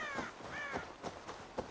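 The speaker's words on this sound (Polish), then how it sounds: "jakieś ptaki jeszcze" Crows cawing in the Assassin's Creed Valhalla video game, several harsh calls in a loose rhythm over a soft background of game ambience, fairly close and moderately loud.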